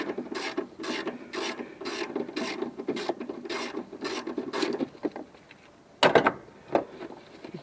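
A ratchet tightens the driver-side transmission mount bolts on a 2012 Mazda 3, giving about five seconds of steady, rhythmic rasping clicks close up, then a pause and a couple of sharper knocks near the end.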